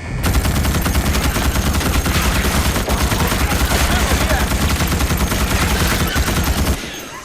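Rapid automatic gunfire rattles almost nonstop during a base attack in the sci-fi shooter Starship Troopers: Extermination, loud and dense for nearly seven seconds before cutting off abruptly.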